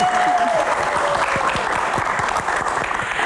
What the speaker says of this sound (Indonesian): Ada MNC University, tepuk tangan juga.